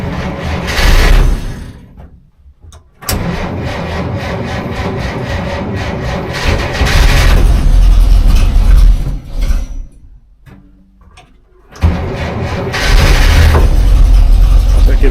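An old truck engine is cranked and started using choke and throttle, giving loud close mechanical churning that stops and restarts several times with short quiet gaps, then catches and runs strongly.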